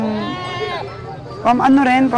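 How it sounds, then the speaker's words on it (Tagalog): Goats bleat at a livestock stockyard in Canlaon, a long wavering cry followed by a louder, harsher burst of bleating, close and fairly loud. "Tingin lang tayo ng mga kambing"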